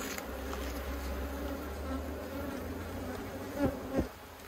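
Honey bees swarming over a hive frame during an inspection, a dense steady buzz with a low drone underneath and a couple of soft knocks near the end.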